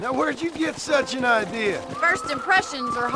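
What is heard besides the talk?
None of the usual background noises is heard.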